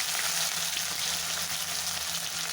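Cumin seeds sizzling in hot oil in a pan for a cluster bean curry, a loud, dense, continuous frying hiss up close with no talking.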